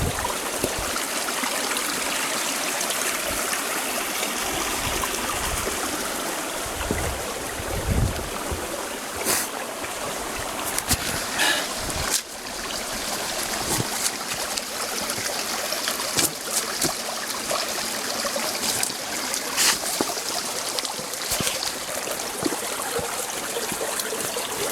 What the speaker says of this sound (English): There's a gorgeous little flowage